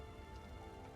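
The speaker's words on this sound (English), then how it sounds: "I like the rain effects too." Steady rain from the game Throne and Liberty, a dense, even patter of drops on surfaces that holds constant and fairly faint throughout without any speech.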